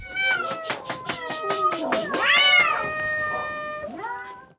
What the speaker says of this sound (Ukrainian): Кішка Астра разом з іншими 30 тваринами звикає до нового помешкання